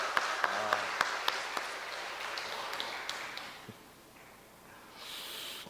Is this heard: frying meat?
no